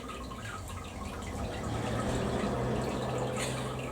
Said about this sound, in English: It's draining very slowly.